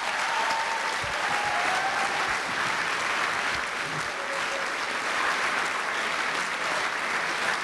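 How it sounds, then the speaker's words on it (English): An audience at a school signing day ceremony breaks into loud, sustained applause, a dense wash of clapping at steady volume from start to finish. "give a round of applause, a very energetic round of applause to our college counseling office"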